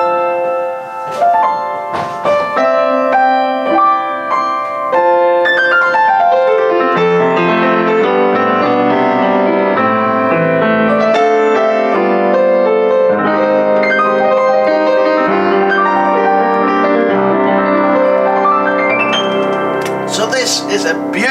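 A Kawai KS-1F upright piano with its lid open plays a flowing melodic passage with sustained chords, bright and resonant, loud and close, with no voices.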